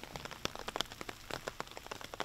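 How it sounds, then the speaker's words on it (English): Rain falls on an open disc golf course in Texas, making irregular light patters and drops that are quiet, with no voices. "Although it's raining."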